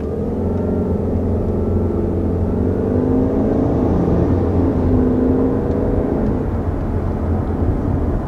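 A 2021 Subaru Outback XT pulls away from a stop, its engine giving a steady, loud rumbling drone with a rising whir that holds evenly throughout, with no voices.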